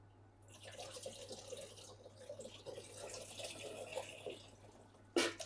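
Water pours from a bucket into a tank in a steady, hissing rush that lasts throughout, with a sharp clatter at the very end and no talk.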